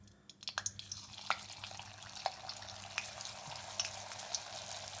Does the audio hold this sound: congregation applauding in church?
no